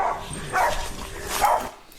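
A dog barks twice near a fishing spot, fairly close and loud, the barks spaced apart over a steady outdoor background.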